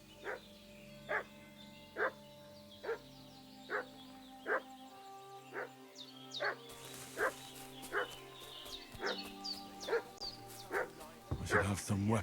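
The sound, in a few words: dog barking, video game Kingdom Come: Deliverance II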